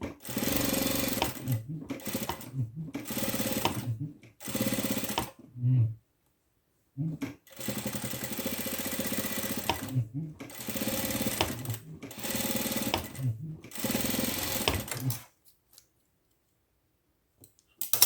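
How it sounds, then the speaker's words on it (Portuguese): Domestic sewing machine stitching all the way around a fabric animal plush comforter, running in several bursts of steady rapid mechanical chatter separated by short pauses, close and fairly loud with no talking. "Vou costurar toda a volta dele."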